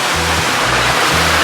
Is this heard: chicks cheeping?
no